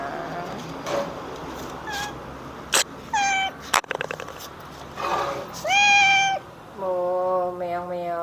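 Several meows from a cat recovering from a hit-and-run arrive one after another with short gaps, fairly close and clear, plus a brief sharp knock midway and a longer, drawn-out meow near the end.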